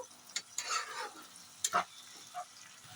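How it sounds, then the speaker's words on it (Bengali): A spoon stirs whisked yogurt into soya keema in a pan. A few distinct scraping strokes sound close against a low sizzle, with short gaps between them. "এবার আমি এর মধ্যে যে দইটা ফেটিয়ে রেখেছিলাম সেটা দিয়ে দিচ্ছি। এটাকে ভালোভাবে মিক্স করে নেব।"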